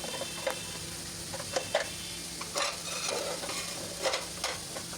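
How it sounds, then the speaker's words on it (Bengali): Grass pea greens and shrimp fry in a pan while being stirred, giving a constant sizzle and irregular scraping clacks of the utensil, with no talking. "এই তো একটু একটু নাড়াচাড়া করছি আর ভেজে নিচ্ছি"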